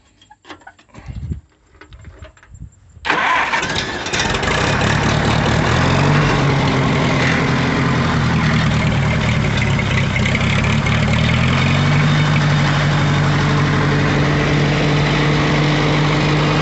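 An Oliver 550 tractor engine, its starter recently welded after cracking, catches after a few seconds of cranking and settles into a loud, steady idle that continues alone to the end.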